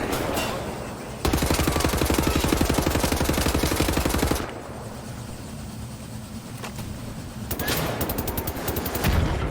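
Sustained automatic gunfire from shooting in Wolfenstein: The New Order, loud rapid bursts with a pause in the middle, layered over a steady background rumble of machinery.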